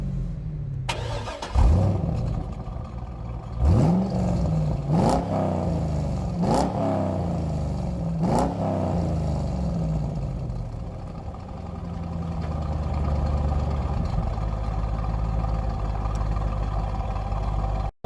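Chevrolet Corvette Z06 engine cranking and catching, followed by several sharp throttle blips that each rise and fall, then settling into a steady, rumbling idle, loud and close with no talking.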